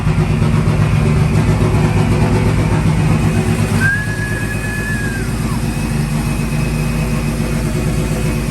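A heavy engine idles steadily with a low, throbbing rumble that stays constant throughout, with a brief high whine partway through.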